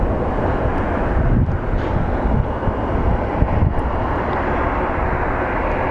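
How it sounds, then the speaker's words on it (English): A small Fairchild Metroliner turboprop departs an airport, producing a loud, steady broadband engine roar that holds for several seconds with wind buffeting the microphone and no talking. "It's a little Fairchild Metroliner departing for Cortez,"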